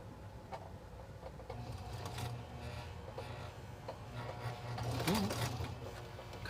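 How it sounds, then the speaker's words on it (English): Sewing machine stitching fabric for a princess seam top, a quiet close mechanical whir running in short uneven bursts with soft ticking, and no voices. "And then now you can start sewing."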